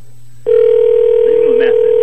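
A telephone tone starts abruptly after a brief quiet stretch and holds as a loud, steady electronic sound, with a faint voice underneath.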